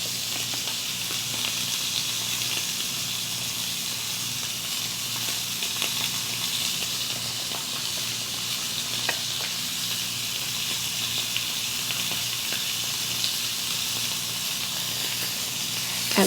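Steady sizzling and hissing of 2.5 pounds of chicken browning in a hot cast iron skillet, continuous and moderately loud, with occasional small pops.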